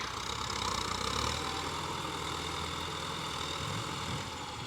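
A Ford 7740 tractor engine drones steadily and loudly while plowing among rubber tree stumps, a continuous rumbling hum with no pauses throughout.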